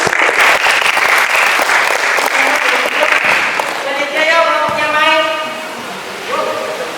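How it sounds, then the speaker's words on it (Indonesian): An audience applauds at an academic coaching presentation with a burst of clapping for several seconds that tapers off, and then a voice speaks as the clapping fades. "Oke, tepuk tangan."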